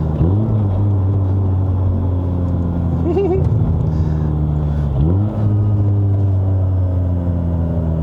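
A Mazda RX-8 with a six-speed manual, heard from inside the car, pulls away with a loud, steady engine drone that rises in pitch, drops at a gear change and climbs again.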